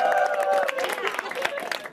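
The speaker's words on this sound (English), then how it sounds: "Give yourselves a round of applause, ladies." Brief applause from a crowd of women, with scattered clapping and some voices mixed in, fairly close and steady throughout.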